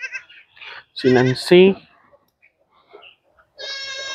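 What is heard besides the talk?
goats bleating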